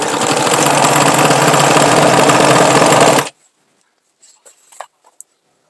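A sewing machine stitching strips for a patchwork rug runs in a fast, loud mechanical rattle for about three seconds, then stops abruptly, leaving a few faint clicks and handling sounds.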